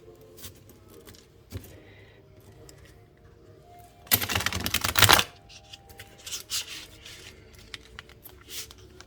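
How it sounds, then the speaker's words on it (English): A quick burst of tarot cards being riffle-shuffled, a dense crisp flutter lasting about a second, surrounded by quieter handling and light tapping of cards. "let's do this regular shuffle"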